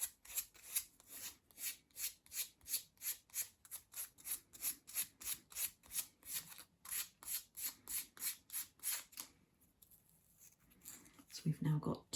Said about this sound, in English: line them up like that at the straight edges, and then sand as one piece